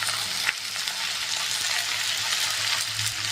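Potatoes and okra frying in a pan with turmeric, a steady close hiss and crackle of oil that runs throughout with no pauses, broken once by a brief sharp tap of a utensil.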